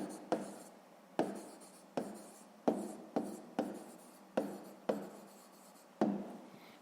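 A pen writes an answer to a sixth-grade maths exercise on paper, quiet close scratchy strokes repeating in a steady rhythm of about nine bursts, each starting sharply and fading.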